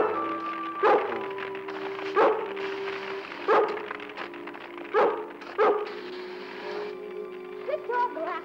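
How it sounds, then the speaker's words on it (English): A collie barks from close by, six sharp barks spaced about a second apart, with whimpers and a car-like background rumble in between. "Good dog, Lassie"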